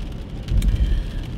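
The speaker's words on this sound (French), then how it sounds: "franchement, il pleut des cordes" Heavy rain pours down outside, a steady dense low rush with a few louder spatters, continuous and fairly close, with no voices over it.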